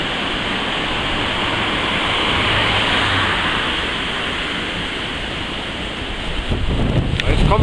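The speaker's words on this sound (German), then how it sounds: "Jetzt kommen wieder schwere Schauerböen." Heavy squall gusts of the autumn storm Christian sweep over open country, a dense continuous roar of wind buffeting the microphone that swells and rises harder toward the end.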